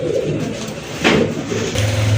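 A large pair of pigeons nesting with eggs coo in close, loud rolling murmurs that continue throughout, with no voices.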